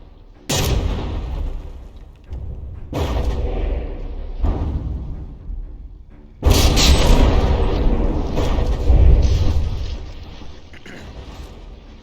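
Artillery volleys from a battleship in the From the Depths game boom out in several heavy bursts, each loud blast followed by a rumbling decay, with a bigger sustained barrage near the end.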